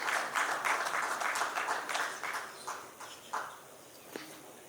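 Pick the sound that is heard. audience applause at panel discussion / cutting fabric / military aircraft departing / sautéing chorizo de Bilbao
audience applause at panel discussion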